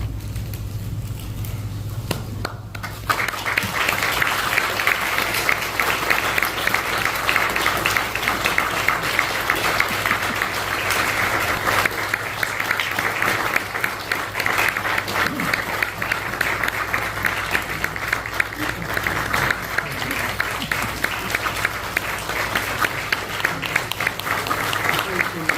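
A church congregation at a pastor's retirement and installation service breaks into sustained applause after a brief quiet moment, with dense, steady clapping lasting over twenty seconds and voices faintly audible beneath it.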